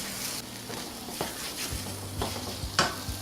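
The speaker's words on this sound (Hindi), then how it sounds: "हलवे को भूनते हुए मुझे तकरीबन 8 से 10 मिनट हो गए हैं" Almond halwa roasting in ghee in a pan, a soft steady sizzle with repeated scraping strokes of a spoon stirring the thick mixture, close and continuous with no talking.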